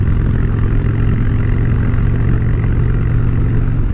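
A Harley-Davidson motorcycle engine runs steadily in fifth gear while riding, a loud, continuous low rumble with constant drone and no voices.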